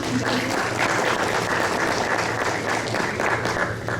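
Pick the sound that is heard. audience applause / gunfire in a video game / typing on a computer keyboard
audience applause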